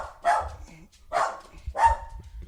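A dog gives three evenly spaced, fairly loud barks close by, each a short sharp burst with no talking over them.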